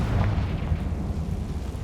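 A Confringo fire spell detonates in Hogwarts Legacy, a loud, dense, rumbling blast that sustains for nearly two seconds with a heavy low-end roar, no talking over it.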